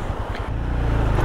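A Honda Grom motorcycle riding through water off road, with a steady engine drone under a rushing, splashing wash and a few rhythmic thumps at the start.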